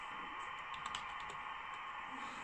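Single-finger typing on a computer keyboard while keying a PSK31 digital-mode call on a preproduction Xiegu ham radio setup: sparse, uneven clicks over a steady hiss, no talk.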